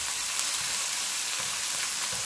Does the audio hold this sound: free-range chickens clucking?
no